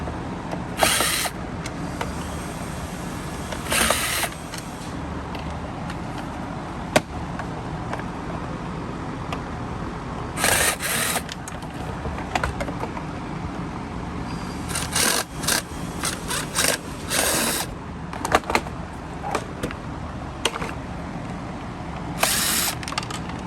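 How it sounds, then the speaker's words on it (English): Screws are undone on a Bissell CleanView Swivel Rewind Pet vacuum cleaner during teardown, heard as a series of short, sharp whirring bursts separated by pauses in a quiet room. "So it looks like we are going to have to undo all these screws."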